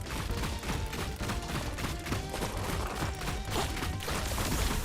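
Water gun firing continuously in the survival game Grounded 2, a steady, dense spray of rapid shots with the trigger held down, filling the whole stretch at even loudness.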